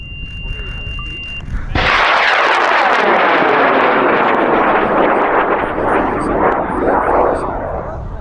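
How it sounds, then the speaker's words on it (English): A high power rocket on an M motor ignites with a sudden loud roar that holds steady as a harsh, rushing blast for several seconds, slowly thinning as it climbs at an outdoor launch. "And we're gonna send Juan's rocket up in 5, 4, 3, 2"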